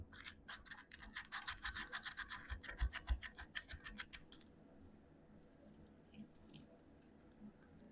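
Coarse 60 grit sandpaper worked by hand inside a guitar body cavity, a quick run of rhythmic scratchy strokes that stops halfway through, leaving quiet room noise.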